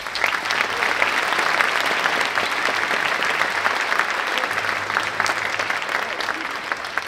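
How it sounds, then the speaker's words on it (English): An audience at a middle school honor band concert applauds a guest conductor, steady dense clapping from a large crowd that carries on for several seconds. "can we give Mrs. Williams a round of applause"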